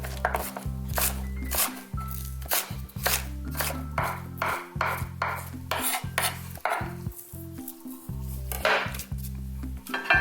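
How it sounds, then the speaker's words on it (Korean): Green onions (scallions) chopped finely with a knife on a cutting board, rapid rhythmic knocks in quick bursts with short pauses, close and clear, no talking. "쪽파 아까 송송 썰어 놓은 거요"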